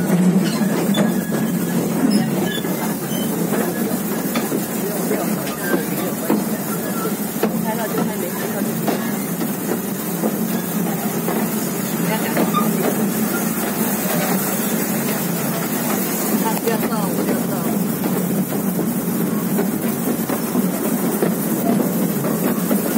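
A narrow-gauge forest railway train at Taipingshan, Taiwan, rolling on its rails: a steady, continuous rumble with faint squeaks and clatter for the whole stretch, close and fairly loud.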